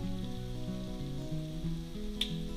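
A knob of butter and diced mushrooms sauté in a pan, giving a steady, even sizzle close by that continues without pause, with no one talking.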